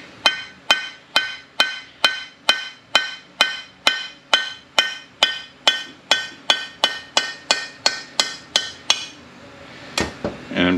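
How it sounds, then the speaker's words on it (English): Steady, evenly spaced metallic hammer strikes, about twenty sharp ringing blows close up, then a brief scrape and shuffle as they stop, while breaking a part off during disassembly of an AX4N. "get your hammer"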